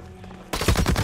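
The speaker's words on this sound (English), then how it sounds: "Oh, Jesus, that's a grenade!" A grenade goes off in the first-person shooter Blacklight Retribution: after half a second of quiet game ambience, a sudden loud burst hits and rolls on as a rumbling, crackling blast.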